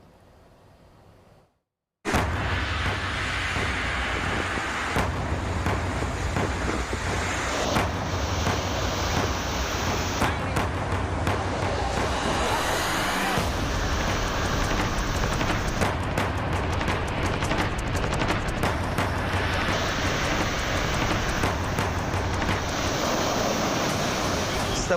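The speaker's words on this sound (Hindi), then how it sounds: "समुद्र से उठने वाली लहरें तबाही का इशारा कर रही हैं।" Rough sea waves and strong wind lash the Mumbai shoreline during Cyclone Tauktae, a loud continuous roar of surf and gusts that starts abruptly after a brief quieter moment and keeps churning with heavy crashing texture.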